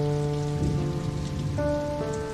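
Heavy driving rain pours down in a steady, dense hiss, with sustained musical tones playing over it throughout.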